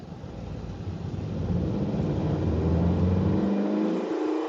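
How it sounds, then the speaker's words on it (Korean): A Kia Niro hybrid's petrol engine cuts in as the car pulls away uphill, a close steady interior rumble that builds as revs climb, with rising whine and a shift near the end. "지금 언덕에서 출발을 하는데 바로 엔진이 개입을 했습니다."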